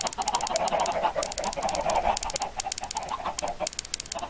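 Minecraft chickens cluck in a dense, continuous chorus, many birds overlapping in quick rhythmic bursts, loud and close with no speech.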